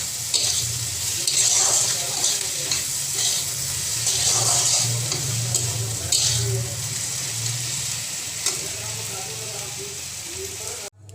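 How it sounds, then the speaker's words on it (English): Tomatoes with a little salt frying in a pan, a continuous bright sizzle that holds steady and close, with occasional faint stirring touches and a soft background voice. "we'll fry until the tomatoes are cooked properly"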